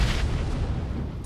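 A frag grenade going off in PUBG Mobile, a short, heavy, booming blast with a rumbling low-end tail, loud and close, with no voices over it.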